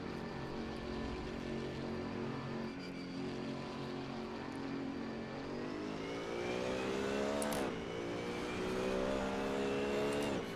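A race car engine in the Assetto Corsa racing game drones steadily and loudly throughout, its pitch dipping and then climbing again through the revs, with no one talking.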